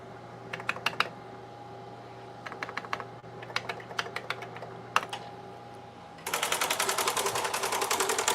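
A solenoid-driven punch machine types out a name: bursts of sharp, rapid mechanical clicks with short pauses between them, then a dense, continuous rattling run of punches, loud and close.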